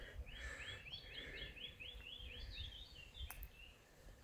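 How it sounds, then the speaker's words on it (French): Birdsong along a country road, a repeated series of high chirping phrases, fairly faint and distant over steady low rumble and outdoor noise. "J'espère que vous entendez les chants des oiseaux."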